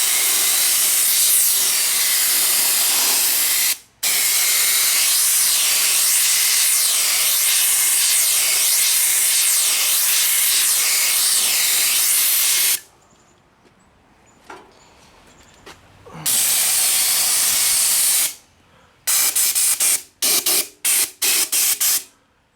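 Bar chain oil is sprayed from a can onto a panel of a 1959 VW single cab pickup for rust protection: one long, loud, continuous spray hiss, then a pause and a run of short, sharp bursts.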